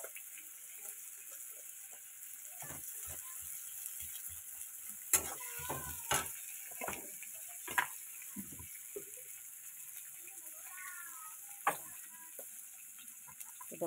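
Lentil fritters (dal bora) frying in oil in a pan give a steady, fairly quiet sizzle with a few sharp clinks and stirring knocks scattered through, no talking.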